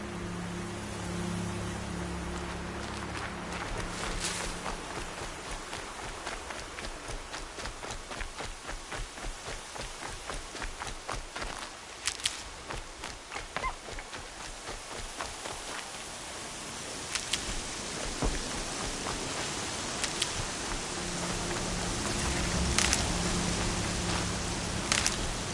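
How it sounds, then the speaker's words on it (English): Steady rain falls in the video game Horizon Zero Dawn, a constant hiss of drops with scattered sharper patters, holding for the whole stretch with no voices. "Been waiting for rain."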